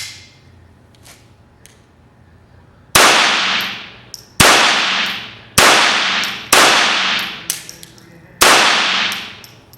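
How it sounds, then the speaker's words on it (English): A Mosquito .22 pistol fires Winchester Wildcat rounds: five sharp, loud shots with ringing decay at uneven intervals, preceded by faint handling clicks. "third shot."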